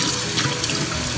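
Kitchen tap water runs steadily into a sink while two stalks of celery are washed and scrubbed, a close, continuous splashing rush with no talk.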